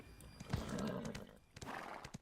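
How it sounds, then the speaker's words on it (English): A horse in the video game Black Desert gives a loud, close whinny lasting about a second, followed by snorts and a few clopping hoof sounds, with no talk over it. "Wait, that's my horse."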